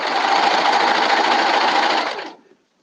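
A sewing machine runs in one steady, rapid whir for about two seconds, then slows and stops, leaving silence.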